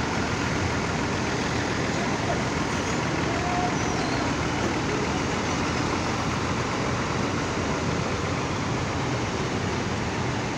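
Steady loud traffic and engine rumble at Purabaya (Bungurasih) bus terminal as a Jaya Mandiri Surabaya–Bojonegoro bus pulls in and parks, continuous and busy with no clear gaps, a faint beeping now and then.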